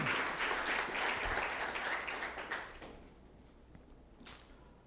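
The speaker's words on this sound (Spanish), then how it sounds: "Den un aplauso fuerte al Señor." Loud applause from a church congregation at an anniversary service rises at once, holds for nearly three seconds, then fades into a quieter room with a few faint knocks and rustles.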